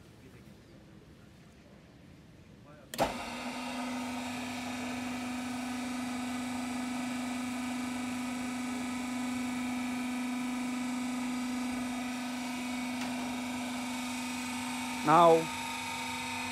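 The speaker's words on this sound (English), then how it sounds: "And here for the hydraulic system switch on." A QT40-3A cement block molding machine's hydraulic system starts with an abrupt click and then settles into a steady, loud hum and whine that runs on unchanged, with a brief voice near the end.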